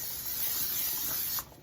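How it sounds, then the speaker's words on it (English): Cooking spray hisses in a steady, close burst onto a skillet heated just above medium, ready for bangers; the spray cuts off sharply near the end. "We're going to give it a little spray,"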